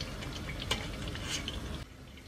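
Zucchini frying in oil in a deep pot makes a steady bubbling sizzle, close and moderately loud, with a brief clink of a utensil against the pot before the sound drops off near the end.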